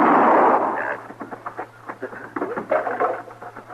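A single gunshot in a Western radio drama, a sharp loud crack at the very start followed by quieter clatter and faint scuffling.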